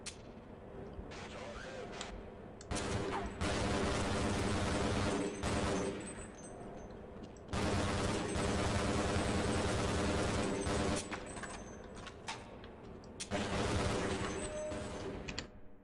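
Sustained bursts of automatic gunfire in the 1990s shooter Half-Life, loud dense volleys separated by short lulls, with someone talking over the action.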